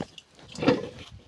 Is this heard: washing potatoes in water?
yes